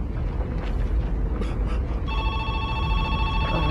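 A telephone rings inside a horror video game amid a heavy stormy rumble, its bright tonal ringing starting partway through and continuing steadily over the loud background noise.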